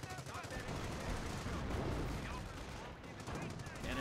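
Machine gun fire and other gunfire from the Company of Heroes game, Hill 317 battle, form a dense continuous clatter of shots with no speech heard.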